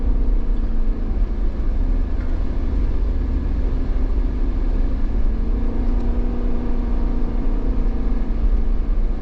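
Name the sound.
Jeep Wrangler 392 engine revving at high RPM climbing a mountain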